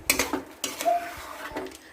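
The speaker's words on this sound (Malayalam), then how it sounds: "എന്നിട്ട് അടിയിൽ പിടിക്കാതെ നന്നായിട്ട് ഇളക്കണം" A spoon scraping and clinking against a cooking pot while stirring chicken korma, a few close, sharp metallic knocks and scrapes in quick succession.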